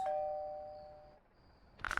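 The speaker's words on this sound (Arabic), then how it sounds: "وندق الجرس" Doorbell ringing in the video game Death Delivery, a single clear ding tone that sustains and fades over about a second, followed by a short burst of louder noise at the end.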